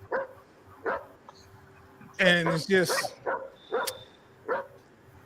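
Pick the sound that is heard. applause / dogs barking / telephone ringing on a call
dogs barking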